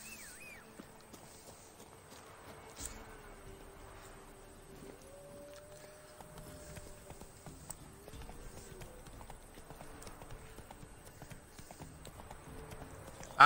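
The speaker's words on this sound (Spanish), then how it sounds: "Caballo lento, corre." A horse in The Witcher 3 video game trots with quick, rhythmic hoof clip-clops that continue steadily for the whole stretch at a moderate, fairly quiet level, with faint game ambience underneath.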